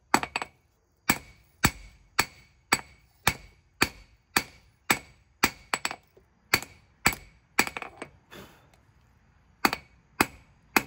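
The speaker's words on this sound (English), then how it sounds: "It'll take me a while to work it down with a hammer" A hammer pounds a thick piece of steel while forging a mountain man knife blade, sharp ringing blows landing in a steady rhythm of roughly one or two per second, close and loud, with a few brief pauses.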